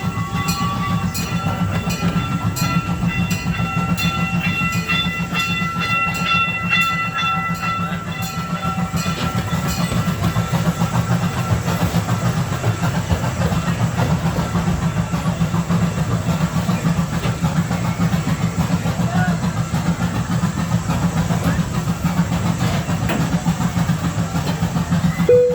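An amusement park train ride at Kemah rolls along with a steady rumble, rhythmic clickety-clack and occasional hiss, loud and continuous for the whole stretch.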